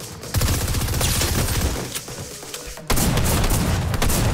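Heavy booming shotgun blasts from a drum shotgun in Fortnite, loud and close, several shots in quick succession with a sharp fresh burst near the end.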